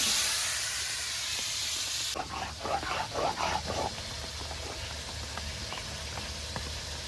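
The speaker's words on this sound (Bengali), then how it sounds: "এরপর নেড়ে চেড়ে আলুটাকে সুন্দর করে লাল লাল করে ভেজে নেব।" Potatoes fry with salt in a pan for a rohu fish curry, a loud hiss at first that drops to a softer steady sizzle with scraping stirs, no talk.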